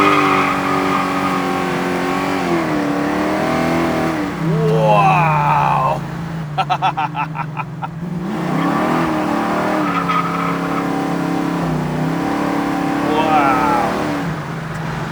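Car revving hard with tires spinning and smoking on a road, a steady engine drone rising and falling in pitch with tire squeal, while a man exclaims loudly over it.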